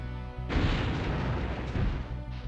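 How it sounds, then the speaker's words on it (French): A loud, sustained barrel explosion in the video game Spyro 2, with a heavy low-end rumble and crackling debris that roars for about two seconds before tapering off. "Je crois que l'explosion du baril m'a touché."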